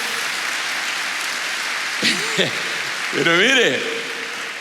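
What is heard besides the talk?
audience applause in church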